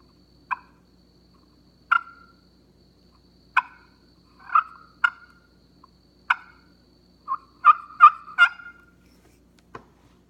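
Soft turkey calls spaced out over a quiet hunting setting, then a wild turkey gobbles back in a few bursts, the gobbles clustered near the end at moderate distance with no talking.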